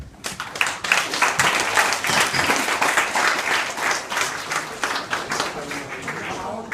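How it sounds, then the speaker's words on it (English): An audience at a speedway awards night claps steadily, a dense round of applause rising quickly and holding strong before easing slightly toward the end, with voices mixed in underneath. "they deserve a round of applause"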